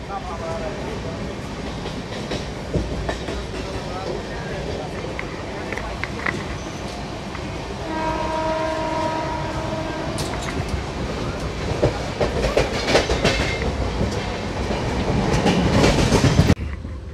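A crowded passenger train running out of Kurla toward Thane is heard from inside the carriage, a continuous rumbling roar with rhythmic clickety-clack of the wheels and rising rattle toward the end.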